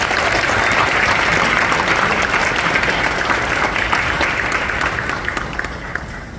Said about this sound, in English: How about a round of applause for Mr. Aragoni?